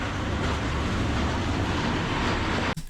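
Steady loud rumble of a moving train in Bosnia and Herzegovina, broad and continuous with rail noise, cutting off abruptly near the end; no talking.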